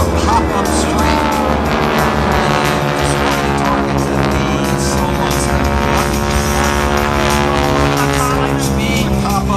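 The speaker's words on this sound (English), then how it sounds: "We've got the 3 aircraft back all of a sudden for a pop-up straight." Three military jets roar past together at the NAS Jacksonville air show, a loud, steady engine drone that fills the whole stretch without letup.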